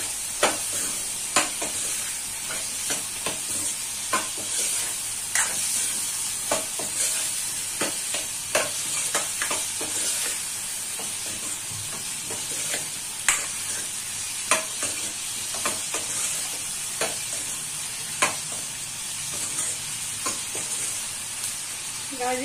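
Radish being stirred in a frying pan, a steady sizzle under repeated scraping and clinking strokes of a spoon against the pan, close and fairly quiet, with no talking.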